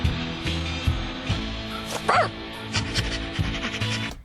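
A cartoon dog from a zombie-potato mystery episode gives a short, bright yip over busy animated music and effects, a single close bark standing out briefly amid the rhythmic soundtrack.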